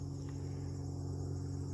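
Crickets chirp in a steady, continuous drone beside a ditch in the pine barrens, faint and distant over a constant low outdoor rumble.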